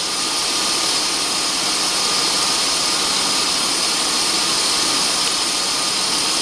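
A car engine runs steadily and loudly while coolant is bled of air, a constant droning roar with no change in pitch or pace throughout.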